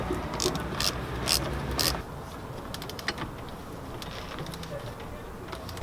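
Clamps on boost couplers of a turbocharged engine being tightened, a run of sharp ratcheting clicks up close that stops about two seconds in, followed by quieter scattered clicks and faint mechanical handling.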